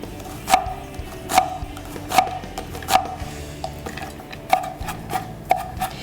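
Onions for a dumpling filling are chopped with a knife on a board in about eight sharp, evenly spaced strokes, close and distinct, over quiet background.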